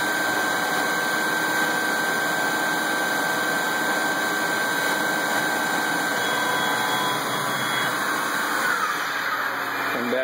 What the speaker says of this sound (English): Turning the thread diameter.